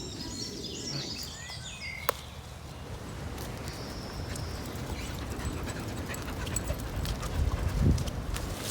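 Dogs whimpering and panting close by in an outdoor spot among bluebells, with a short sharp sound near the start, steady rustling throughout and faint birdsong in the background.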